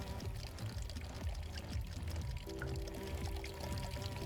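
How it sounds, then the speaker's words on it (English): Water pours and trickles steadily in a small, lazy river, a continuous close gurgling wash with a faint steady tone entering halfway through. "there's a little lazy river down here"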